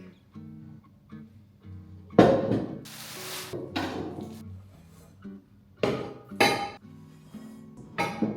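Metal pans from a 13-piece HexClad set clink and clatter in a few separate bursts, close by, with quieter knocks and rattles between them.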